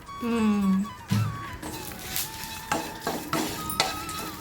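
Garlic cloves and spices dry-roasting in a pan for Udupi idli podi, stirred with scraping strokes and light metal clinks; a short voiced sound comes at the start.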